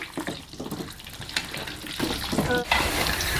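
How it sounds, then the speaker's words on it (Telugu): Amla (Indian gooseberries) frying in a pan while being stirred, a continuous sizzle with scraping stir strokes, close and moderately loud. "ఇవి వేగడానికి కాస్త టైం పడుతుందండి నెమ్మదిగా ఇలా కలుపుకుంటూ అయితే వేపుకోవాలి"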